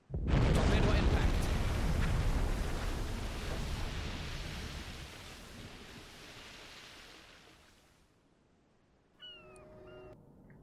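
Torpedo impact explosion in the submarine game Silent Hunter 5: a loud, deep blast that rumbles and slowly fades over about eight seconds, followed by quiet and then faint tonal game sounds.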